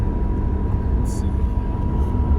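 An Alfa Romeo GTV6 engine drones steadily from inside the car while it is driven, with a low rumble throughout and someone talking over it.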